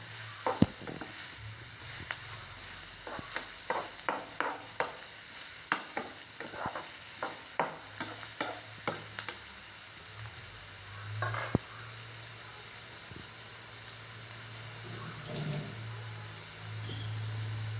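A metal spoon stirs and mixes a salted, spiced mixture in a sizzling pan, with a run of rhythmic clinks and scrapes against the pan over a soft steady fry, then quieter sizzling.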